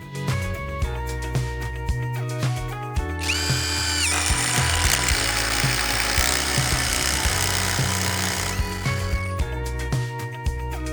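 A Dnipro-M DTD-201BC ULTRA impact driver sets a long 10 mm screw. Loud, close bursts of motor whine and rapid hammering impacts build into one sustained hammering run of several seconds, then stop into quieter clicks.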